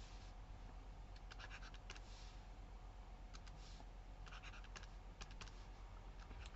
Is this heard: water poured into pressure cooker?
no